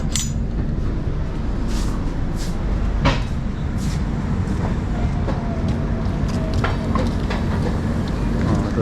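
The 04652 Amritsar to Delhi express rolls on with a loud, constant rumble and rattle from inside the carriage, broken by sharp clanks and clicks of the wheels over the track.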